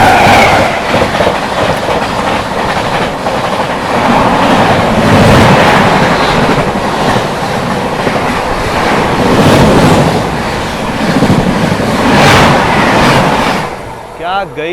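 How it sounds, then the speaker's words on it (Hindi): Lichchhavi Express, the Lalitgram–New Delhi Vaishali Express, rolls past close by in a loud, continuous roar of wheels and wagons with rhythmic rail clatter, fading slightly at the very end. "सामने से आती हुई ललित ग्राम नई दिल्ली वैशाली एक्सप्रेस आती हुई"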